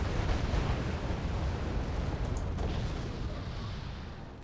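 A missile strike in Wargame Airland Battle, a rumbling explosive boom that rolls on and slowly fades, loud and continuous with no voices.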